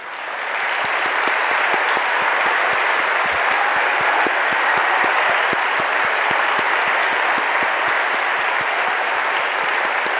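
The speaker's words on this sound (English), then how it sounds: "have a round of applause for everyone" Sustained, loud applause from a standing crowd at a WordCamp US conference in Nashville honoring Gutenberg contributors, dense clapping steady throughout with no talk.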